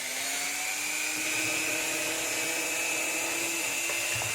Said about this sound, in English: I like to put my Dremel up to 3, make sure it's nice and fast